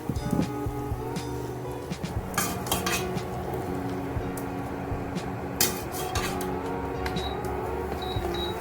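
White chickpeas sizzle and rattle as they fry in a pan while a utensil clinks and scrapes against metal now and then, steady and close.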